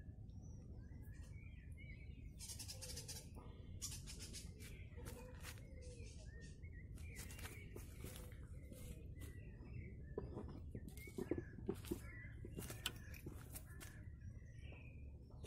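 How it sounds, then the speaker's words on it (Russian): Small birds chirp and sing outdoors by a river during a fishing trip near Zaporizhzhia, scattered faint calls over a steady background hum. "Птички поют классно на природе."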